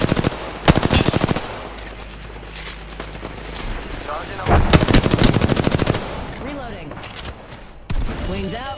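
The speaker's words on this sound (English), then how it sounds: "Taking fire." Rapid automatic gunfire bursts from the Apex Legends video game, loud, repeated volleys with brief pauses, close and sustained over several seconds, with in-game voice lines and effects mixed in.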